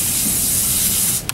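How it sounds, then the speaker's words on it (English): Cooking spray hissing onto parchment paper over a kitchen sink, one loud, continuous close-up spray lasting about a second before cutting off abruptly. "just give the parchment paper a little spray"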